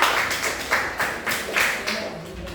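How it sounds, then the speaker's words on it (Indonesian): A class group claps hands together in loud rhythmic bursts, roughly twice a second, with voices under the claps. "tepuk tangan untuk kelompok"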